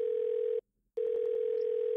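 Steady telephone dial tone in the Who Wants to be a Millionaire video game during Phone a Friend, a clean continuous tone that cuts out briefly and then resumes with faint clicks.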